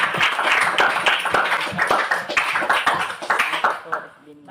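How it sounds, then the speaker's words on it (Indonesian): Students applauding in a classroom, a burst of lively hand claps at close range that gradually thins out and fades near the end, with voices mixed in. "Tepuk tangan buat kalian semua."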